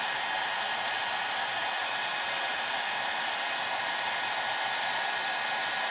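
Hot air blower held about six inches from a chainsaw crankcase during an MS660 clone assembly, a loud, continuous, even whooshing hiss throughout with no talking.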